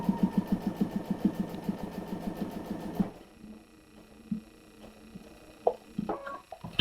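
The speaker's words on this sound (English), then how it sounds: "Angela, look at the sewing machine." A sewing machine stitches an oven door cozy with a fast, steady rhythmic chatter for about three seconds, then stops, leaving faint clicks and handling noises.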